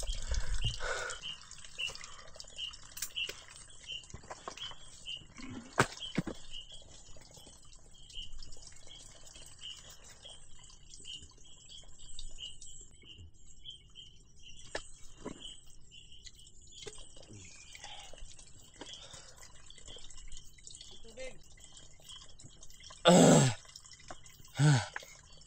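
Water drips steadily from a spring beside a mountain trail, faint repeated drops through a long quiet stretch outdoors, with occasional birds and a louder rustle near the end.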